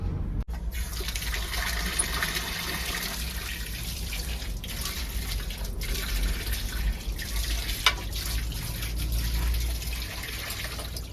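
Water gushes steadily from a tap or pipe after an electric water pump motor is switched on in a village home, a continuous close rushing flow with low motor hum underneath and no talking.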